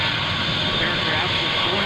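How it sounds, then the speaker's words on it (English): A Boeing 707 jet airliner flies past at an airshow, a loud, continuous broadband jet roar that stays steady throughout, with a voice commentating over it. "this is an airplane a guy will never forget"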